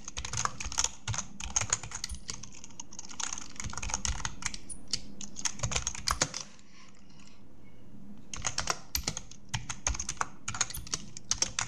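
Rapid, close keystrokes on a computer keyboard enter an AI image prompt, clattering in dense bursts with a brief pause near the middle before typing resumes.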